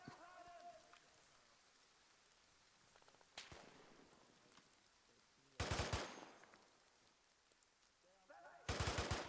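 Machine gun fire in a military shooter video game: several short, loud bursts crack out at intervals over a faint, rain-like background hiss, the last two bursts louder and longer.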